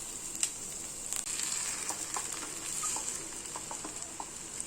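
Mango rice (manga malli sadam) is stirred and sautéed in a pan, with a steady close sizzle under soft scraping stir strokes that continue throughout. No one speaks.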